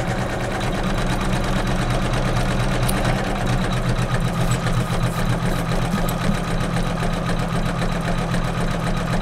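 Embroidery machine sewing a right and left satin stitch border on the blue cake layer of a patriotic quilt block, a steady loud mechanical whir with fast even needle chatter running continuously throughout.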